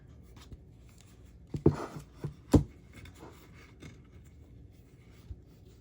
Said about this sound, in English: I'm just going to wrap this around like 2 or 3 times with my twine